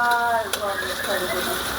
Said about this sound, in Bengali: পেঁয়াজ কুচি দিয়ে আগে একটু ভেজে নেব আমি।